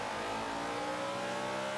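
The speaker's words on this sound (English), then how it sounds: "994 horsepower Mustang coming through" A 994-horsepower 2015 Mustang GT roars in the racing game Forza 5, its engine revving hard in one loud, continuous, rising drone.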